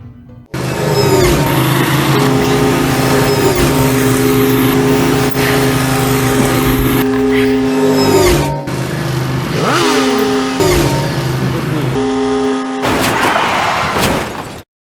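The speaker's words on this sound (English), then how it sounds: "This is an automobile race." Racing cars roaring and revving at an automobile race, loud and continuous with several engines overlapping and pitch sweeps as cars pass, broken by a few brief gaps.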